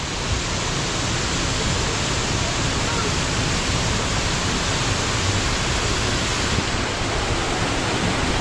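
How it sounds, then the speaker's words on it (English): Waterfalls pour along an indoor river at the Gaylord Opryland resort, heard from a riverboat as a loud, steady broadband rush that fills the whole stretch without pause. "this section of the river we're currently going into is our waterfall section."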